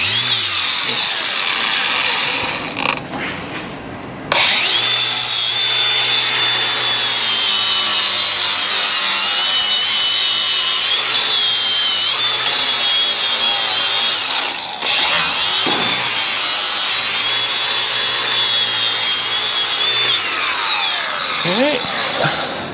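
A battery-powered angle grinder whines loudly and steadily for a long stretch, starting abruptly and holding a high, even pitch with slight wavering as it works a test piece in a car workshop, with brief speech before it starts.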